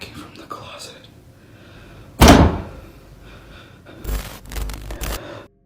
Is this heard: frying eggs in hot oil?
no